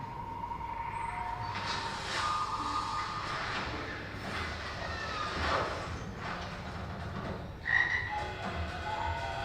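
Frogs croak steadily in the jungle, a dense layered chorus of rasping calls with a few louder, nearer croaks standing out against the continuous background din.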